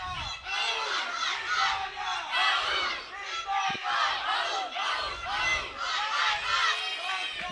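A British crowd chants loudly and continuously at a youth archery individual final, rhythmic massed voices rising and falling without a break, close and dense throughout.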